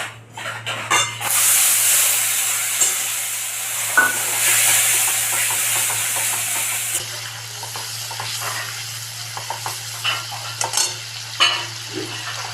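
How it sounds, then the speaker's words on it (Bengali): Panch phoron five-spice roasting in a dry wok gives a steady close sizzle and hiss, loudest early, with stirring scrapes and clicks throughout and no talk. "শুকনো কড়াইয়ে পাঁচফোড়নটা দেওয়ার পর লাল করে একটু ভেজে নিয়েছি"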